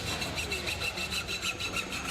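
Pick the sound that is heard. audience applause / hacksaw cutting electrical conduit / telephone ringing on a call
hacksaw cutting electrical conduit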